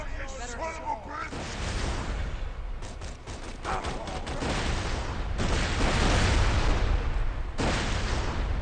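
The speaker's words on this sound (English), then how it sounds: "That's a lot of grenades." Many grenades going off in Borderlands 2 gameplay on the PlayStation Vita: dense, continuous bursts of blasts and gunfire-like cracks that surge and fade in loud waves, with game noise throughout.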